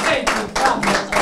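Hands clapping in a short burst of applause for Cagliari football fans, a few people clapping in uneven bursts with a brief gap, fairly close and moderately loud.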